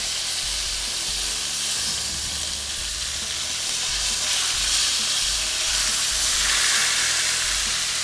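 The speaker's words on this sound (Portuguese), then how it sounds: "Agora, com a pinça aqui, eu vou selar a parte de baixo." A beef fillet for Beef Wellington sears in a hot pan as it is turned with tongs, giving a strong continuous sizzle and hiss that swells a little toward the end.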